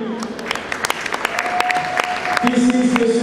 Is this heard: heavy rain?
no